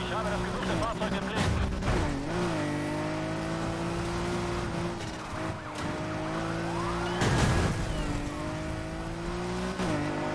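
A wailing police siren sweeps up and down behind engine noise as cops chase the player's car in the Need for Speed racing game, with someone talking excitedly over it throughout.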